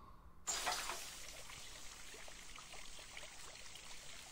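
Water pours in the video game School of Dragons, a steady broadband rush that starts abruptly after a brief quiet lead-in and keeps flowing evenly to the end with no voices over it.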